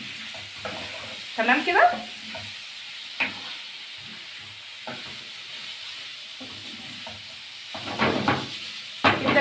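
Liver sizzling as it fries in a pan for Alexandrian-style liver, with occasional scrapes of stirring and hiss of steam throughout; a voice speaks briefly over the frying.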